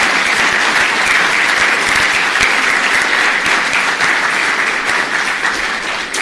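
Audience applause at a lawyers' convention memorial lecture fills the hall, a loud, dense, continuous clapping that holds steady throughout.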